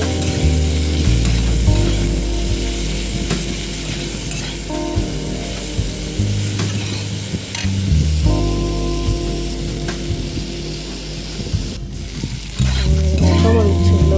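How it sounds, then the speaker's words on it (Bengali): Bitter gourd, potato and prawns fry with turmeric in a pan, a loud, steady sizzle with repeated scraping and stirring strokes and a low mechanical hum underneath. "অল্প হলুদ দিয়ে দিচ্ছি এবার ভালো করে ভেজে নেব"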